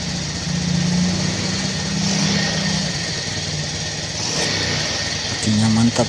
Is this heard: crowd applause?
no